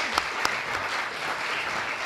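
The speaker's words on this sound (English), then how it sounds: "You never get applause, so" An audience at a Select Committee chairs' evening event applauds, a dense, even clapping that carries through the whole two seconds with a couple of sharper claps early on.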